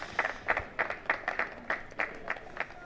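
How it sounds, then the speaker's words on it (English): A few spectators at a county cricket match between Gloucestershire and Middlesex give a thin, scattered round of applause, a dozen or so distinct claps spread across a few seconds. "a generous round of applause from 3 or 4 people down there"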